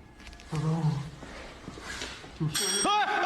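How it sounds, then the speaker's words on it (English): A bicycle bell rings briefly in a spooky haunted-room scene, a few bright metallic chimes that mix with exclamations, loud tonal cries and other voices around them. "is that the bike bell?"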